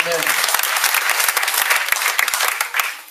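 A church congregation applauds loudly and steadily, many hands clapping up close in a continuous wash, with voices mixed in.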